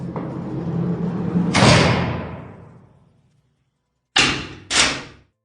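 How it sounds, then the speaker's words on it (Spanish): A heavy barred cell door at Alcatraz, the former prison now a museum, rolls shut with a long grinding rumble that ends in a slam, then two sharp metallic clanks as the bolt locks, loud and echoing. "ya nos han cerrado la puerta detrás nuestro, nos echaron el cerrojo"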